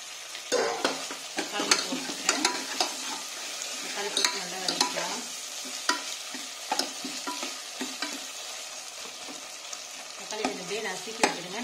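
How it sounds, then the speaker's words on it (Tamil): Tomatoes going into a pan of well-fried ginger, garlic and onion for a hotel-style veg kurma, stirred steadily with a scraping spoon; a continuous close sizzle broken by frequent rhythmic stirring knocks, with no voices. "இஞ்சி பூண்டு வெங்காயம் எல்லாமே நல்லா பொறிஞ்சு வச்சு இப்ப நம்ம வந்து தக்காளி போட்டுடலாம்"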